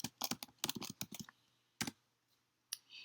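Quick bursts of keystrokes clatter on a computer keyboard as a folder name is typed, with short pauses between clusters and a final isolated key press, close and fairly quiet.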